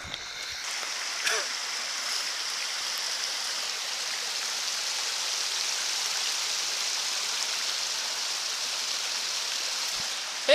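A shallow creek flows beside a backpacking trail at Spruce Knob, West Virginia, giving a steady, soft rushing wash of water that carries on unbroken at a moderate distance.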